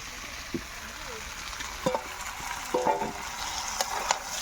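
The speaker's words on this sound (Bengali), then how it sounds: "এবার আমি দিয়ে দেব সেই ভেজে রাখা চিংড়ি মাছগুলো" Fried prawns go into a jackfruit and potato masala cooking in a pan: a steady, soft sizzle broken by a few light knocks and scrapes of stirring.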